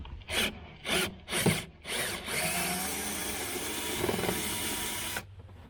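A power driver fitted with a number 2 Phillips bit spins out screws on a trolling motor mounting plate, giving several short whirring bursts followed by a longer steady run.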